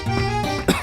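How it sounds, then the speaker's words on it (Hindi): A single short, harsh cough in a Nectus cough syrup commercial, close and loud, lasting under a second. "खांसी"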